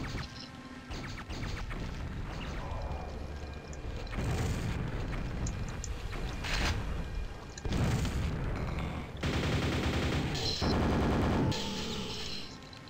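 Weapons firing in the shooter Quake, in the Dissolution of Eternity expansion: a loud, dense run of booms and rapid bursts, with heavier blasts in clusters near the end and no talking.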